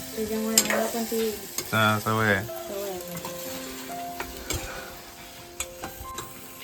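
Tempering frying in oil for a mandeli fish curry cooked on a wood-fired stove, an ongoing sizzle with spoon clinks and stirring, while a voice talks over the first few seconds.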